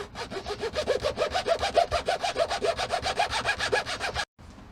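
Close, rapid back-and-forth rasping as the ends of model catwalk pieces are filed flat, with a quick even rhythm of about five strokes per second, then a sudden stop.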